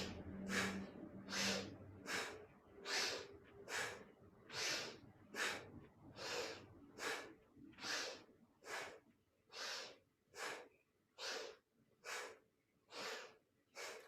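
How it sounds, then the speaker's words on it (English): Short, sharp breaths during a yoga twist, inhaling to one side and exhaling to the other, sound as about fifteen rhythmic, forceful puffs at a steady pace, close and clear with no talking. "These can be short, sharp breaths."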